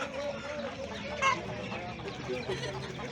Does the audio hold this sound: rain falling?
no